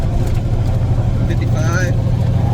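A Kenworth T800 truck runs fast in ninth gear, its engine droning low and steady up close, with faint whining tones and a voice speaking over it.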